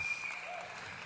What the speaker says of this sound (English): There's the applause there.